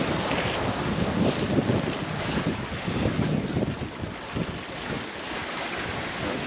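A sailboat runs under sail at sea on the way to Malta, heard as a dense, continuous rush of wind and water with steady buffeting against the microphone.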